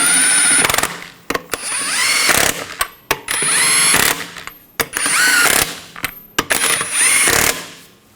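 Power tool driving the wheel lug nuts snug on a 2015-2020 Cadillac Escalade during a rear brake caliper job, in about five loud whirring bursts with short gaps between them and no talking.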